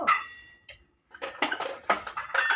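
A metal spoon tossed by a child in a home kitchen clatters against steel pots and bowls, with a bright clang at the start and then several rapid rattling, jangling hits close by.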